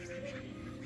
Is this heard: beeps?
no